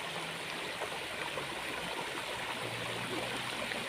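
Water from a small waterfall at Huai Heng Mi pours and splashes into a stream, a constant moderate rushing with faint gurgles throughout.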